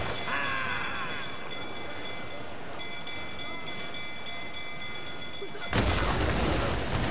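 Loud booming cannon blasts over a constant rumbling game soundscape, with a sharp burst of fire near the end.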